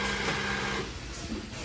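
Industrial sewing machine stitching fleece in a textile factory, a steady dense motor whir running throughout that eases slightly in the second half, with no speech over it.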